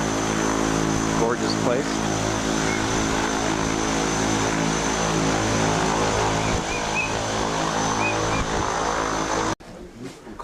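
A propeller airplane drones loudly and steadily on the ground at Lukla airport in the Everest region, its engine hum dominating until it cuts off near the end, while a voice speaks briefly over it.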